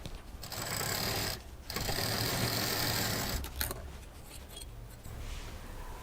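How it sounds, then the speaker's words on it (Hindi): Close by, a sewing machine runs stitches through a scrap-fabric bedsheet in a steady whirring, rattling hum. It stops briefly twice, and each run ends with a soft mechanical clunk. "डबल मशीन देते हुए सिलाई कर देंगे।"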